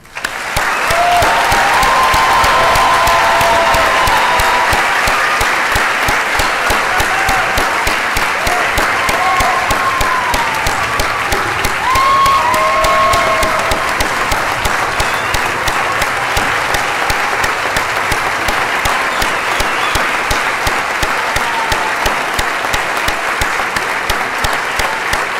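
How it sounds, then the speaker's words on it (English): Long, loud applause at a 2016 graduate school of biomedical sciences graduation, a full hall clapping continuously and evenly, with a few faint cheers rising through it early on. "One more round of applause."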